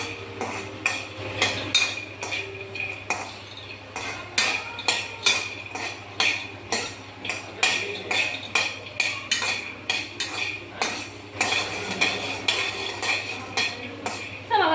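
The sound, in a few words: frying egg in a pan, stirring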